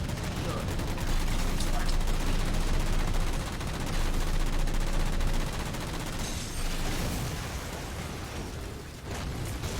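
Rapid bursts of gunfire from the video game Halo 4, dense automatic shots and impacts rattling continuously over a noisy battlefield mix, with voices talking faintly underneath.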